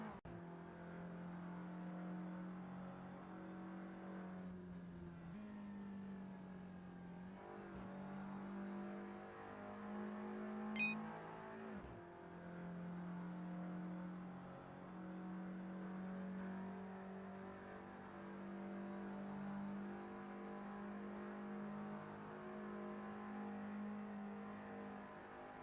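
A Super GT race car runs its out lap in a racing video game, a faint, steady engine drone with slight shifts in pitch, one sharp click partway through, no voices.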